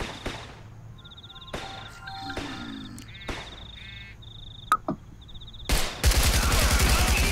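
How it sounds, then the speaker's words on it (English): Big gun fire in the zombie video game Contagion, several sharp distant shots and bursts scattered among electronic beeps and game sound effects, ending in a loud dense rattle of gunfire. "That's a big gun somebody's got out there."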